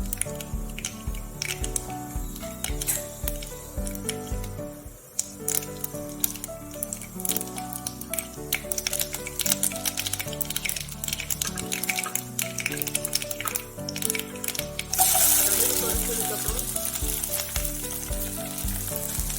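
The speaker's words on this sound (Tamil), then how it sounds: "நம்ம எண்ணெய் ஊற்றி எண்ணெய் சூடானது கடுகு போடுறோம்." Mustard seeds crackle and sizzle in hot oil, a dense, steady frying hiss with rapid popping throughout, growing brighter and louder near the end.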